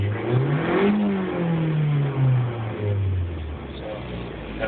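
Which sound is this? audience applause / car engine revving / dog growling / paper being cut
car engine revving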